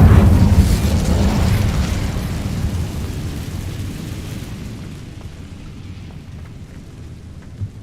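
A booming fire-spell blast from Hogwarts Legacy, loud at the start and rolling off into a long, fading rumble.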